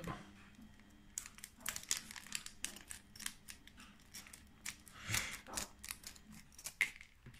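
Pokémon booster packs from a Sun and Moon display being torn open one after another, sharp crinkly foil rips and crumples in quick irregular bursts, close and fairly quiet, with no voices.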